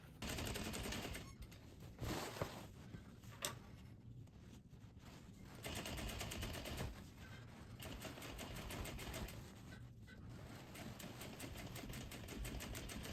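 A sewing machine stitches along the curved pocket edge of homemade jeans in rapid mechanical bursts, running steadily with brief pauses between runs, close and clear with no talking.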